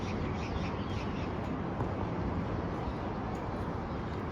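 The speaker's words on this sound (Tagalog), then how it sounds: "Maririnig mo lang yung mga tunog ng ibon" Birds calling on a cold, foggy morning outdoors, with scattered duck-like and crow-like calls under a steady broadband hiss and no speech.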